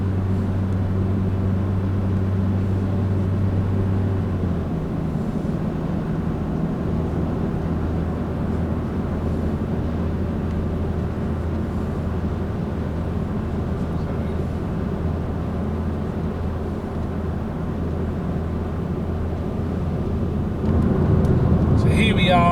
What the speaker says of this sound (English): the car I'm driving is a 2010 Ford Focus in silver, and it is an automatic